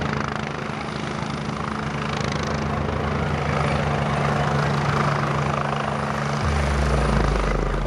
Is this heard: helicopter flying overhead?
yes